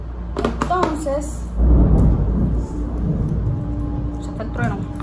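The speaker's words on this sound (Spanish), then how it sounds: "ya está el trueno." A low rumble of thunder rolls in partway through, loud and deep for about a second, then fades under ongoing indoor chatter from a woman and a child.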